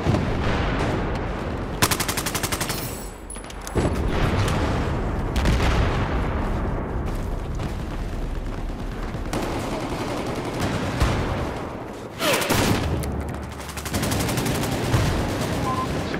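Rapid bursts of gunfire in Battlefield 4 Conquest multiplayer, loud and close, with repeated volleys and short gaps across the stretch, plus some distant booms.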